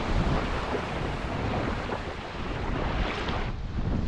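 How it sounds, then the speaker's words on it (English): Water rushing along the hull of a sailboat under way at sea, a loud, continuous close-up wash with heavy wind noise on the microphone and no talk. "noise of rushing water across the hull is yeah, it's beautiful"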